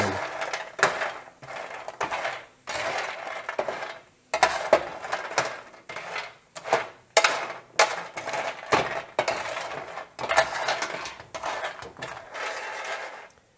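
Croutons fried in bacon fat, with garlic and fresh rosemary, tossed and scraped around in a pan, giving a string of close, irregular clinks, rattles and scrapes with brief pauses between them.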